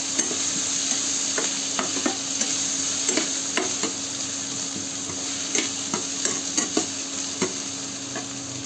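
Onions and green chilies sizzle in a pan over low-medium heat, a steady close hiss with frequent light scrapes and taps of a stirring spoon throughout; no talking.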